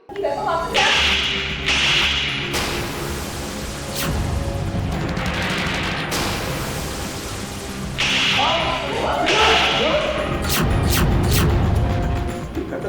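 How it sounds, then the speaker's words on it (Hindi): A hard slap across the face in the Hindi TV drama Baatein Kuch Ankahee Si cracks sharply like a whip, amid dramatic thuds, whooshes and background score, with voices around it. "यहां पर वंदना ने अपनी बहन को जोरदार तमाचा जरूर जड़ दिया है"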